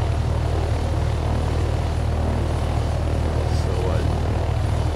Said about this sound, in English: My very first helicopter.